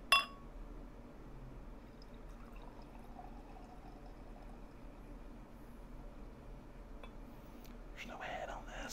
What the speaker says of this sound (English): So let's pour it.